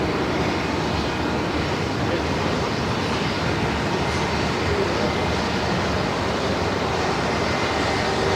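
Jetstar flight 565 from Brisbane descends toward Melbourne Airport, producing a constant, moderately loud wash of jet noise with a low rumble and no clear break.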